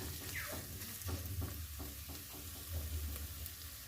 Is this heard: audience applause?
no